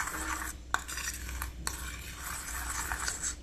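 A utensil stirs a runny mosaic grout mixture in a container, making soft wet scraping swirls punctuated by a few sharp clinks against the sides, close and quiet, with no voices.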